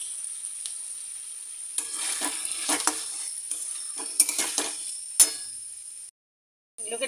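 Capsicum and onion cubes sizzling in a frying pan while being stirred, with a steady hiss of hot oil, scraping strokes and a few sharp clinks of a utensil against the pan, briefly cut to silence near the end.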